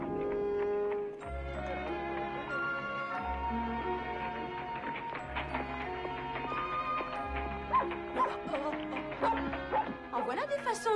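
Dog barks in a 1983 French-dubbed animated David Copperfield film, several short yaps over a lively orchestral score with voices speaking nearby.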